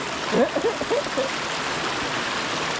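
Steady rushing of a river flowing nearby on a trail in Dominica, a constant broadband wash with a brief murmur of voice early on.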